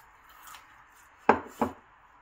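Crispy double-fried fish bones crunched in the mouth, two sharp, close bites a moment apart over a quiet background, with a softer rustle before them.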